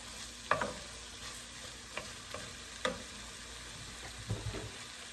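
Onions frying in a pan for homemade packet noodles, a steady sizzle with a few sharp stirring clatters and scrapes of the spatula, close and moderately loud, no talking.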